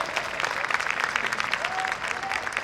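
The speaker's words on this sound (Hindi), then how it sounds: "सरवत हुसैन के लिए भरपूर तालियां बजाइए प्लीज" Audience at a poetry recital in Karachi applauding, a dense, even wash of many hands clapping throughout, fairly close, with faint voices underneath.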